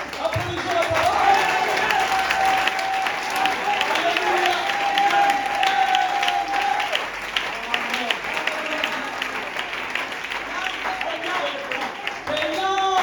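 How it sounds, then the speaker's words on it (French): A church congregation applauds loudly and steadily for a long stretch, dense clapping from many hands with some crowd murmur and a voice heard under the applause. "Applaudissons la parole."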